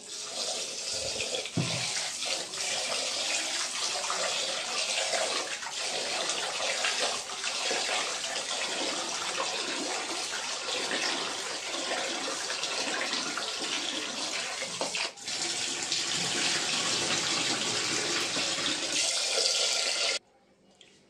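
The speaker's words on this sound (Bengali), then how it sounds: "চাল ধুয়ে জল নিয়ে নিয়েছি, ভাতটা বসিয়ে দিই।" Rice being washed under a running tap, a steady, loud rush of flowing water that continues for about twenty seconds before cutting off abruptly near the end.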